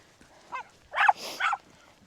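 A dog barks a few times: one short yap, then two louder, closer barks in quick succession, with quiet surroundings and no speech.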